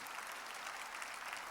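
A church congregation claps together during a worship service, a steady dense wash of applause, fairly faint and continuous with no voices rising above it.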